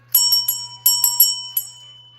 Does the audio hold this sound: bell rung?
yes